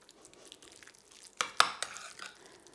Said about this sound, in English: Give that a little mix to make sure all the leeks are incorporated into the mince.